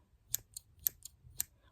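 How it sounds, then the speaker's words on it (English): Compact, sharp craft scissors snip in the air several times, crisp metallic clicks spaced roughly half a second apart, close and quiet with nothing else around. "these scissors are always very handy and always very sharp"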